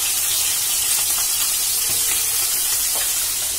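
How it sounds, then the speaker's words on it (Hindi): Fish frying in a pan gives a steady, close hiss and sizzle that carries on evenly throughout with small crackles, and no voice is heard. "ये देखो अभी मच्छी देखो फ्राई कर रही हूँ"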